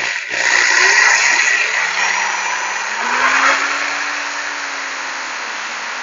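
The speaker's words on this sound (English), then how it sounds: "then we'll drill out the pilot hole on this side like we did on the other side" A power drill bores a pilot hole in a vinyl fence post, a loud steady whirring drone with a rising-then-falling pitch, close by and alone.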